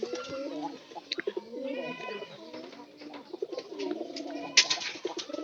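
Pigeons coo in soft, repeated throaty rolls from close by, overlapping one another continuously, with a few sharper flutters and clicks mixed in.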